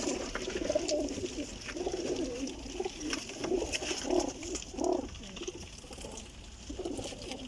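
Young pigeons for sale coo repeatedly in low, rounded bursts, fairly close against a steady background hiss, with no talking.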